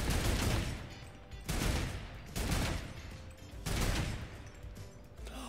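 Turret gunfire in a video game escape map comes in four rapid bursts, spaced about a second apart. Each burst is loud and dense, with short lulls between.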